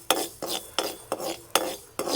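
Dry fenugreek seeds roasted in a pan, a spoon scraping and rattling them in five or six regular strokes, close and crisp with no talking.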